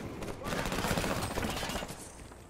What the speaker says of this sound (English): Oh, he shotgunned me.